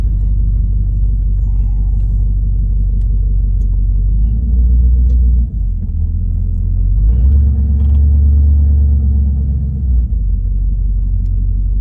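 A 1971 Chevrolet C20 truck engine idling after a cold start, with a loud, steady low rumble and slight shifts in pitch, heard close up with no talk.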